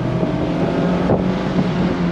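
A 2024 Mazda MX-5 Miata, rear-wheel drive, revs hard under full acceleration, its engine note steady and loud and close with wind rush over it, no talking.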